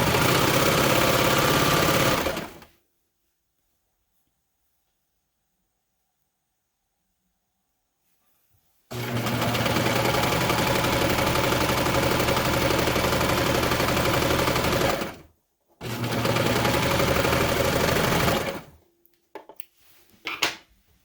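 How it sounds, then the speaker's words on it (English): An electric serger overlocks the seam of a fabric skirt, running at a loud, steady motor whir in two long bursts and one shorter one, with silent pauses between and faint handling clicks at the end. "put this in my machine, find my pedal, and run this through my serger"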